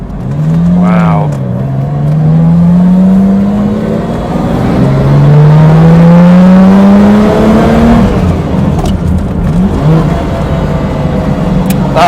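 A Lamborghini Miura P400S is heard onboard while driving. The engine is loud and close, rising and falling through gear changes with a rough, throaty drone, and speech can be heard under the engine noise.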